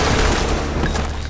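Rapid automatic gunfire rakes a car in a Los Angeles ambush scene from the film Training Day, a dense continuous barrage of loud shots with no pauses across the burst.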